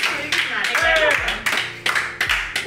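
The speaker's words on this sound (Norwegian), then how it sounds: "Da gir vi applaus." A small group on a sofa at a Christmas beer tasting claps in loose, uneven bursts, each sharp clap distinct and close, mixed with lively voices.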